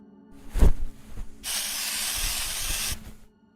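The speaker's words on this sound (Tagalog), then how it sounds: "Mag-i-spray ako ng insecticide para hindi tayo maamoy ng aswang." An insecticide aerosol can sprays in one steady, loud hiss lasting about a second and a half. A few dull knocks and thumps come just before it, and there is no talking.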